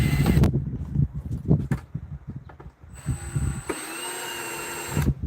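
A part is screwed back onto a jig, first with some handling knocks and clatter, then a powered driver whines steadily up close for a couple of seconds before stopping.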